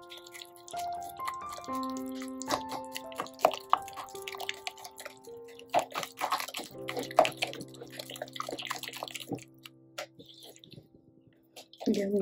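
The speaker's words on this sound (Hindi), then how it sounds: "इसमें हम और पानी डालेंगे।" Water poured into gram flour batter for fish pakora in a home kitchen, a run of drips and plops with liquid splashing into the bowl, close up, with scattered clinks and a louder splash near the end.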